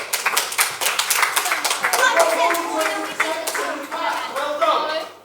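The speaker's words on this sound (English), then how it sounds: "Give them a big round of applause." Applause from a small audience at a science festival session about hunting the Higgs, with a few children speaking and cheering over the steady clapping, which swells in the middle before fading.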